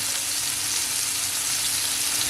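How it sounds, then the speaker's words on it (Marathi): Sole fish (lepa) frying in a pan, one continuous dense hiss of hot oil, close and even with no breaks and no talking. "ह्याची पण बाजू आता एक दोन तीन मिनटं शेकून घ्यायची मग लेपा मच्छी पण आपली फ्राय एकदम झटपट खायला तयार होईल"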